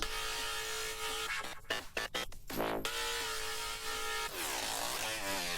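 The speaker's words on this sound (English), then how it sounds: "An exciter is saturation for the upper sounds," A full pop song runs through an exciter send that saturates its upper harmonics, giving a bright, dense mix with a brief stuttering break partway through before the music resumes.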